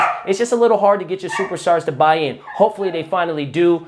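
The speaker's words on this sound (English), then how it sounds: "I'm sorry my dog is barking in the back." A dog barks and whimpers in the background of a room while someone talks steadily about basketball, the yips faint and partly buried beneath his voice.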